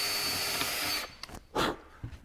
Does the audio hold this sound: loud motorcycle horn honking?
no